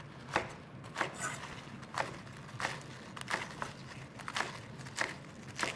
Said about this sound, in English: take a stack of it, and then roll it up and go through with our knife